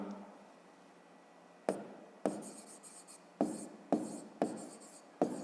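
A pen writes an answer by hand in a maths exercise, six or seven distinct close strokes with a sharp scratchy start to each, following a quiet stretch.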